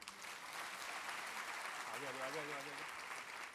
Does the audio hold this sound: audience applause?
yes